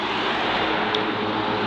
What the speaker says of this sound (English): Noisiest road ever.